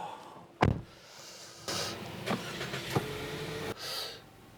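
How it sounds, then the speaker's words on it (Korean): A car engine cranks and catches with a sharp burst, followed by a few mechanical clunks and whirs, close by and fairly loud. "시동 소리는 괜찮은데"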